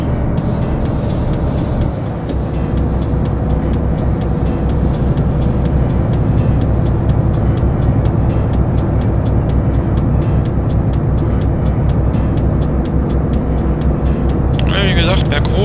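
A heavy truck's engine drones steadily in Euro Truck Simulator as it accelerates on cruise control, its loud, continuous rumble sustained throughout with a faint rhythmic ticking on top.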